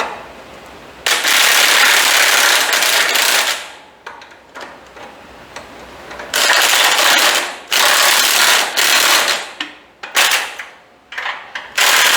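Bolts and U-bolts are fitted to a homemade trailer axle, with bursts of loud ratcheting and metallic clattering separated by short pauses and quieter handling noises.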